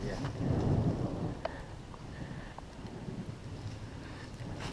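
A low, rumbling roll of thunder during a storm in the Charles C. Deam Wilderness, strongest early then fading into a steady wash of rain and wind, distant and moderately loud.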